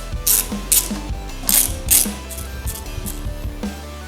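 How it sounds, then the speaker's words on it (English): Ratchet wrench loosening the caliper bolts on the right side of a newer Suzuki Gixxer motorcycle's front brake, giving several bursts of close, loud clicking in an uneven rhythm, with no talking. "the next bolts I'm gonna be loosening up are the caliper bolts on the right side"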